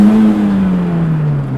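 A turbocharged Honda Civic with a budget K-swap, a K20 base engine fitted with a K23 head, builds boost in a steady, loud drone that sinks slowly in pitch, with no talking.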